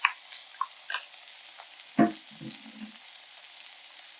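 Garlic and red peppers sauté in a pot for beef goulash, making a faint, crackly sizzle with a few soft scraping stirs and one louder clunk partway through.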